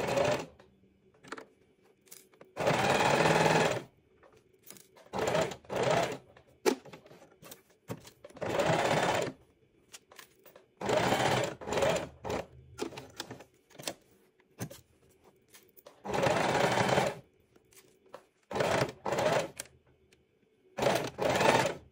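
Sewing machine stitching double-sided cloth wipes, with several bursts of rapid mechanical running and backstitching, separated by pauses, quiet clicks and handling sounds; no talking.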